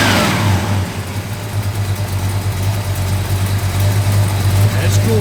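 A 1969 Plymouth Road Runner with a mild cam runs close by, its engine rumbling steadily with a strong low throb and slight revving swells throughout.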